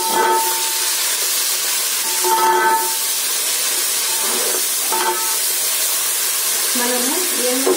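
Onions fry in a pan with a loud, steady hissing sizzle, while a voice talks intermittently over the frying.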